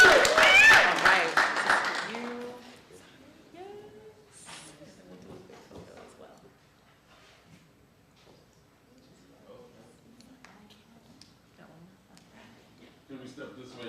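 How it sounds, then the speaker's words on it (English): At a county commissioners' special presentation, an audience claps loudly for honorees for about two seconds, then the applause dies away and quieter talking and room murmur carry on through the rest. "One more round of applause for Ms. Patrice and Ms. Masani, everyone"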